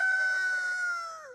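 Rooster crowing in a single sustained, high tonal call that holds steady then tails off at the end, clear and alone with no talk.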